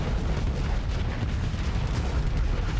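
A Starsector space battle in which torpedoes and main weapons strike ships, a dense continuous rumble of impacts and booming fire, loud and unbroken, with no voices.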